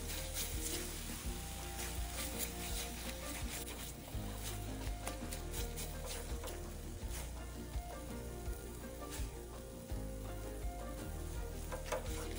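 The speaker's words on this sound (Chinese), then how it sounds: "此阶段必须不停拌炒，避免底部烧焦" Homemade tom yam paste sizzling and being stir-fried in a pan, a continuous close frying hiss with scraping stirs throughout.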